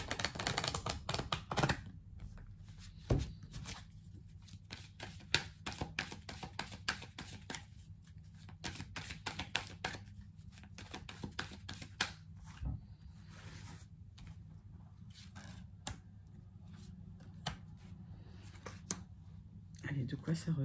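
A deck of coffee mood oracle cards is shuffled in quick bursts of papery riffles and taps, repeated through the clip, with a voice talking in between.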